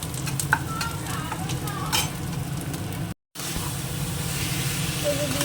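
Meat fries in a pan with chopped tomato, ginger-garlic paste and ground spices, a steady close sizzle broken by stirring clatters and scrapes, with a brief dropout midway.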